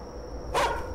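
A single sharp, close dog bark in the horror game The Karaoke by Chilla's Art, sounding alone over a faint steady hum.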